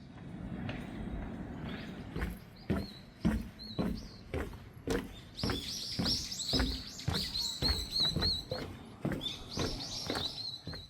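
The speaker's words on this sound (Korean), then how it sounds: "새소리를 감상하며 걷다 보면" Birds singing along a forest trail on Namsan in Seoul, with bright chirps and short calls scattered over rhythmic footsteps or knocks, fairly close and clear.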